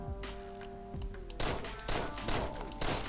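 Several punchy in-game gunshots and thuds from the video game Deadbolt ring out in quick irregular succession over a steady background game soundtrack.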